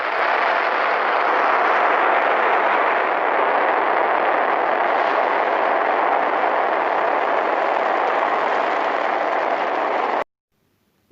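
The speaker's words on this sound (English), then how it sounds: "Space shuttle." A space shuttle launch gives a loud, unbroken rumbling roar that holds steady for about ten seconds and then stops abruptly.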